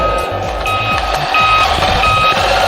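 A voice-controlled RC car backs up, its loud repeating electronic reversing beeps sounding close over a steady whirring motor, with no talking.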